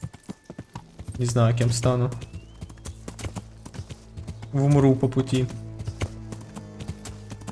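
Horse hooves clip-clop at a steady walking rhythm in the video game Kingdom Come: Deliverance, with crisp regular hoofbeats running beneath a voice that comes in two short bursts.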